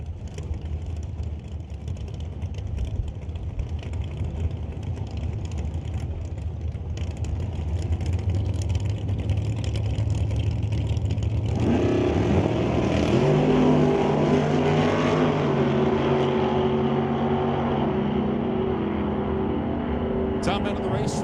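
Drag racing cars at a Super Pro race, including a 1983 Monte Carlo: a loud, continuous engine roar that builds and shifts to a higher, harmonic-rich howl partway through, with a voice talking over it.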